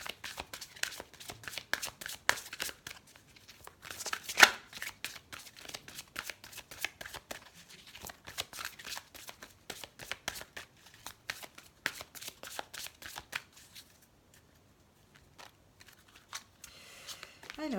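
Tarot cards being shuffled in repeated quick riffling bursts of crisp, papery flutters, close and fairly loud, with brief pauses and a quieter stretch near the end; no voice over the shuffling.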